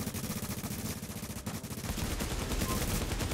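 Rapid automatic gunfire in the video game The Division, a steady rattling stream of close shots that swells louder partway through, with no talking.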